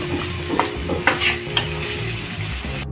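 Onions frying in a pan with curry leaves for a Maharashtrian taro-leaf curry, a steady sizzle with a few scraping stirs of a spoon over about three seconds, close and moderately loud, no talking.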